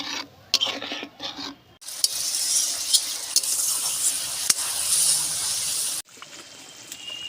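A paste of cumin and dried red chili is sautéed and stirred in a pan, with a few clatters of the spoon before a sustained hissing sizzle and scraping that then cuts off abruptly.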